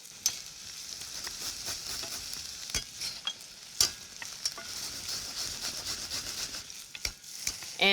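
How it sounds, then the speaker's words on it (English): Onion, garlic and ginger sauté in a pan with a continuous bright sizzle, punctuated by sharp crackles and spatula scrapes as they are stirred up close. "starting with sautéing some onion until tender. Now a little garlic and ginger."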